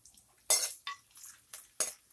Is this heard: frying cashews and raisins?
yes